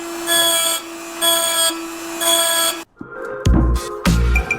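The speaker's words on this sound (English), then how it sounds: "Carefully pull it out and drill it." A power drill whirs in three steady bursts with short pauses between them, then gives way to a few louder clunks and thuds.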